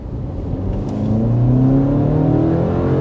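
A 2024 BMW 5-Series with a four-cylinder engine accelerates from inside the cabin, its muted, refined engine tone rising steadily in pitch and volume over a soft whir, with no voices.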